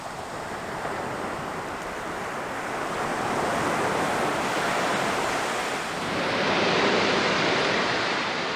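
Sea waves wash onto a sunny beach in a steady broadband surf roar, swelling louder partway through, with some wind buffeting and no talking.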